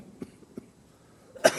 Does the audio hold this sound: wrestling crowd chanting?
no